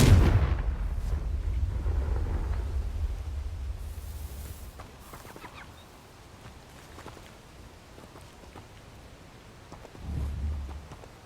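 A fire-spell explosion in the Hogwarts Legacy video game: a sudden low boom that rumbles on for several seconds and fades into crackling debris, then a second deep thud near the end.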